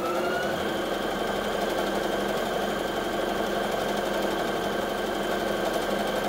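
A Brother PS300T sewing machine runs steadily after its start button is pressed, a close, even mechanical whir and rapid stitching rhythm continuing unbroken throughout.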